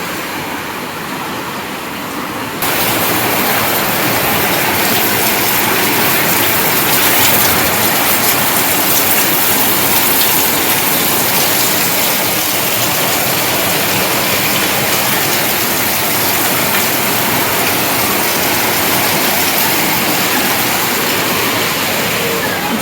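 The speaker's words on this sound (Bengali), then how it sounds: "বৃষ্টিটা এসছে, প্রচন্ড জোরে বৃষ্টি হচ্ছে" Heavy rain pours steadily during Cyclone Remal, a dense, loud, continuous hiss that swells in after a quieter opening few seconds and holds unbroken to the end.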